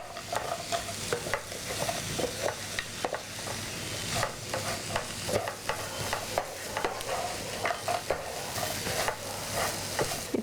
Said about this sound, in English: Stir it well until all the paste mixed with the tempeh